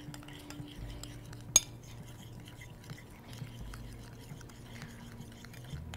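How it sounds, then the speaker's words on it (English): Salted slaw being mixed in a bowl, faint soft clinks and scrapes of a utensil with one sharp tap, quiet and close with no talking. "And a little bit of salt. Probably about the same amount. All right. And we're just going to mix that up."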